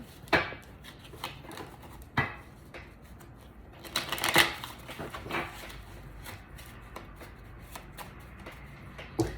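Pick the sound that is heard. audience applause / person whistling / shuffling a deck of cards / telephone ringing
shuffling a deck of cards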